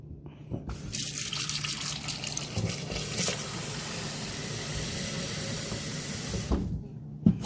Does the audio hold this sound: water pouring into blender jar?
yes